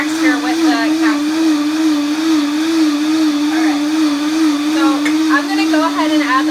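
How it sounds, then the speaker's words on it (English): A blender runs steadily on high speed, blending cashews into a creamy texture, with a constant loud motor whine and churning that stays even throughout with no pauses. "you want your blender to go for like 3 to 5 minutes"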